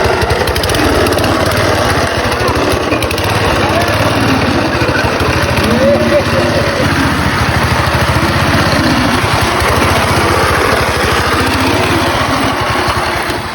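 A small engine on a homemade motorized skate runs steadily and loudly throughout, a buzzing, high-pitched drone like a lawn mower, with no break in the noise.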